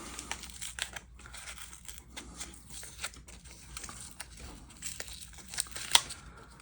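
Masking tape peels slowly from the gold-pinstriped paintwork of a Revell 1971 Ford Mustang Mach 1 widebody plastic model, giving soft, close crinkling and faint tearing that grows with one sharper rip near the end.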